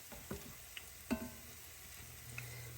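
Hot water cornbread frying in a cast iron skillet: a faint, steady sizzle with a few soft clicks and taps of utensils, quiet and with no voices.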